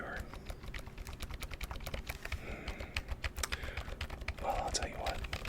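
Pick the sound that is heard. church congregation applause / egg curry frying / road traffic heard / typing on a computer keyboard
typing on a computer keyboard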